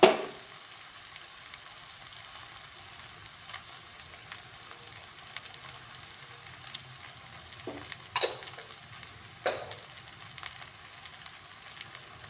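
Restaurant-style vegetable noodles with tomato sauce and salt stir-frying in a pan, a steady low sizzle running throughout, broken by a couple of louder scraping tosses of the utensil near the end.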